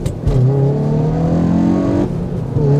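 Hyundai i20N hot hatch pulling hard in first gear, engine note climbing steadily in pitch from inside the cabin, then a sudden drop as the throttle lifts for a gear change before the revs build again.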